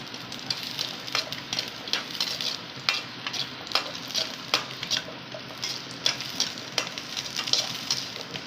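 Ingredients sauté in a pan for a pregnancy kali made with palm jaggery, with steady close sizzling and repeated scraping, stirring knocks of a spoon against the pan throughout.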